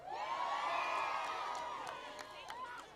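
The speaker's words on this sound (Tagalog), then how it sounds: "yung hiyaw ninyo, mula dito sa Iloilo, rinig na rinig namin yan hanggang sa Pasig" A crowd at a thanksgiving rally in Iloilo cheers and shouts, a sustained roar of voices with whoops, steady and loud before tapering slightly.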